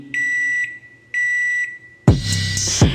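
A household microwave gives two identical sustained electronic beeps, each about half a second long, close and clear against quiet. A louder, busy burst of other sound follows.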